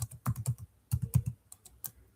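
Someone types code on a computer keyboard in quick clusters of clicky keystrokes, with a short pause midway, close and fairly quiet, with no talking.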